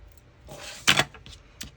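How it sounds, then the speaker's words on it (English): A single sharp metallic clatter close by, like scissors hitting a hard surface, rising briefly out of a quiet room. "Sorry, didn't mean to drop my scissors."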